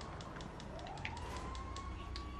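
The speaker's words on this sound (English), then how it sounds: "Fire engines and ambulances here." Wailing emergency sirens from fire engines and ambulances in the video game GTA 5 rise and sweep steadily, heard over a constant low rumble of game traffic and engine noise.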